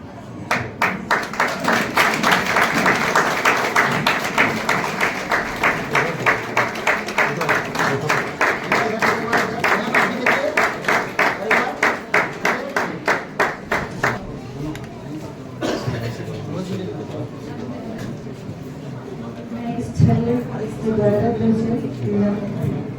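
Steady rhythmic hand clapping from a seated congregation at a Christian wedding ceremony, a dense even beat lasting about fourteen seconds before fading into murmur and scattered noise, with talk underneath.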